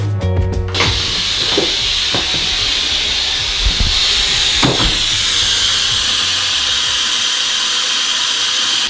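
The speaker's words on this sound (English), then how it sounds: "It just beeped at me and it's steaming at me." A kitchen appliance gives a short beep at the start, then a steady loud hiss of steam runs throughout, with a few faint clicks and knocks.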